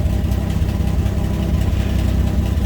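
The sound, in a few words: 1965 Chevrolet Corvair engine idling after starting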